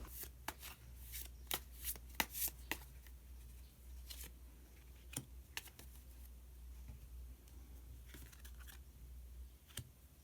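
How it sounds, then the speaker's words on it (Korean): Tarot cards are shuffled and drawn by hand, giving a run of quick, crisp card snaps and riffles that come in irregular bursts, close and quiet, with no talking. "그러면 마지막으로 히든 카드 한 장 더 뽑아보도록 하겠습니다."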